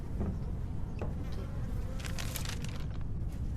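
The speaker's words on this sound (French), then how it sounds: "Il y a des bruits étranges là dans la maison, ça va pas. Il y a des mouches." Flies buzz inside a house, a steady insect drone with small swells, set in a dense, constant background rumble.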